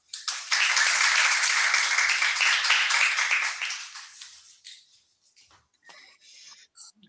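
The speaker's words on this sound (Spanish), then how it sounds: "ahora sí vamos a recibir un fuerte aplauso al señor Carlos Vargas." An audience applauds to welcome Carlos Vargas, a full burst of clapping that swells quickly, holds for a few seconds, then thins out and fades to scattered claps and faint murmurs.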